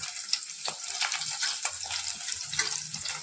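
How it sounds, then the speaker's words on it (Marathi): Green chillies frying in hot oil for sabudana khichdi, a steady close-up sizzle with crackling pops and light spatter running throughout, no voices. "मिरच्या छान तळून घ्यायच्या"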